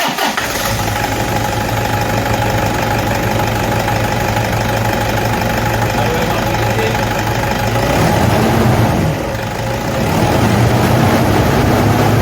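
A Toyota D4D diesel engine with a faulty idler pulley idles steadily and loudly at close range, a constant low rumble with a faint whine, briefly rising in revs toward the end.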